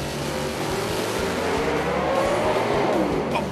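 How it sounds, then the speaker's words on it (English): A race car at Bristol slides sideways across the track and slams into the right side wall. Loud engine roar and crowd noise run throughout, with skidding tire sounds and a sharp impact near the end. "Big time sideways across the track. Hard impact into the right side wall."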